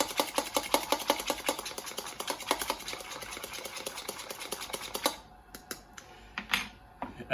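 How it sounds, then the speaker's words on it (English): An egg is whisked smooth for an egg wash, a fast, steady rhythmic clatter of whisk against bowl, close and continuous for about five seconds, then slowing into scattered, lighter taps. "I'm going to whisk up my egg, and I want it really, really smooth"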